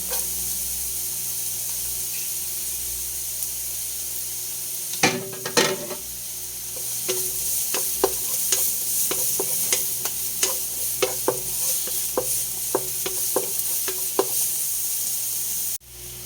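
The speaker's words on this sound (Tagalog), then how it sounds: "Mag-gisa lang ako ng" Chopped garlic sizzles steadily in a hot pan for garlic pepper beef, with a run of sharp utensil clicks and scrapes against the pan starting partway through, close and moderately loud with no talking.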